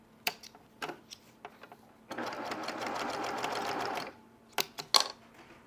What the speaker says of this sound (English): I'm sewing from the color to the background.